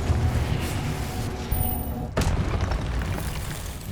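Confringo blasting spell in Hogwarts Legacy, a dense rumbling explosion that stays loud throughout, with a sharp crack near the middle and a continuous roar of combat debris.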